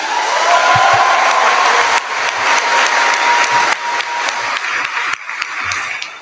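Sustained applause from a ceremony audience at a class of 2024 scholarship event, loud, dense clapping continuing for several seconds and tapering slightly near the end.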